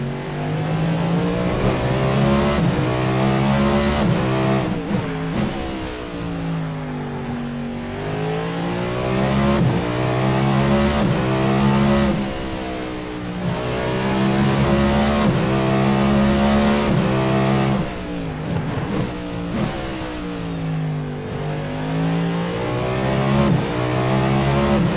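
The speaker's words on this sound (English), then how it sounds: "Enjoy an American V8 Symphony." Cadillac LMDh race car's American V8 in a racing video game, a loud, continuous engine note repeatedly climbing through the revs and dropping back on upshifts and downshifts, with no talking.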